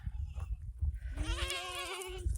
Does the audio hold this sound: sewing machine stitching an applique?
no